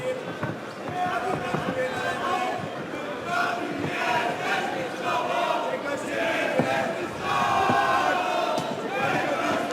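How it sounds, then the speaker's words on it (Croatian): Arena crowd at a Varaždin MMA title bout cheering and chanting for Polish fighter Kamil Kraska against Igor Cavalcanti, a dense, continuous roar of many voices swelling and easing with a commentator talking over it. "Navijanje iz Poljske."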